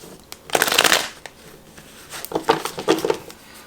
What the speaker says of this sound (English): now let's pull out a couple of cards